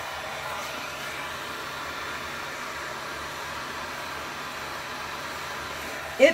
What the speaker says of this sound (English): Let me see if I can get this on there and heat it up some more